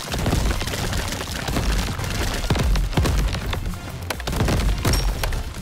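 Bombs exploding in the video game Crab Champions, a dense barrage of booming blasts and crackling impacts over continuous loud game noise, no talking.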